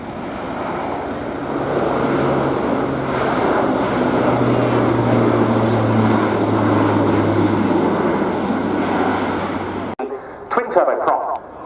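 A large military transport aircraft roars past at an airshow with its 14-wheel undercarriage extended, a loud, steady engine drone with a low hum that breaks off abruptly near the end, while a voice talks over it.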